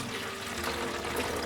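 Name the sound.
pouring water from a glass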